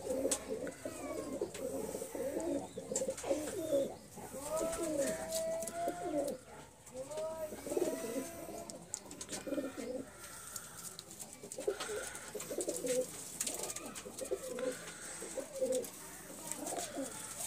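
Pakistani teddy breed pigeons coo in a loft, a pair giving repeated soft, throaty rolling calls throughout, with steady background hiss and no talking.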